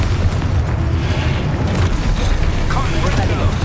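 Exposo spell blast from the game Hogwarts Legacy on PS5, a dense rumbling boom of game combat effects that runs steadily through the moment, with a player's voice shouting a spell over it.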